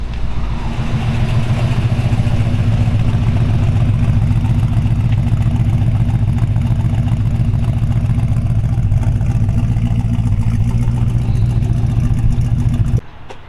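A 1972 Chevy C10 short-bed truck's 350 V8 idles steadily and close up, a deep, even rumble with a faint tappety clatter that runs for about thirteen seconds before cutting off abruptly.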